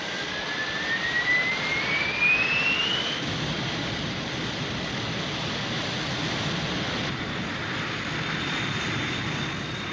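Jet engines roar steadily in a Thunderbirds episode scene, a loud, continuous broadband rush with a rising whine over the first few seconds, close and unbroken throughout.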